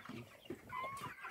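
Hens and roosters kept together with a duck at a farm, clucking softly at a distance in short, quiet bursts.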